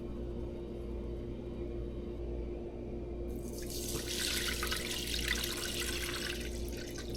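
Tap water runs into a pot for a bluefish brine of brown sugar and salt, starting partway through as a steady bright hiss over a constant low kitchen hum, with no talking.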